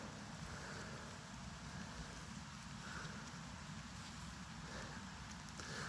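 Rain falling steadily during a hike to a waterfall in a gulch, a faint, even hiss of drops on gear and foliage with a low outdoor rumble, continuous and without speech.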